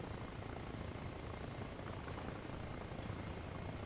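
A helicopter in the Arma Reforger video game flies with a dense, steady rotor and engine roar that stays loud and constant throughout, with no voices over it.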